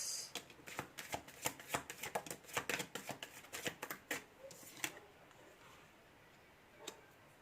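Tarot cards being shuffled in a steady flurry of crisp riffling flicks for several seconds, then tapering off to a few scattered taps near the end.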